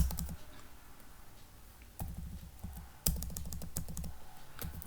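Someone types on a computer keyboard in quick bursts of close, crisp key clicks separated by short pauses, with no talk over the tapping.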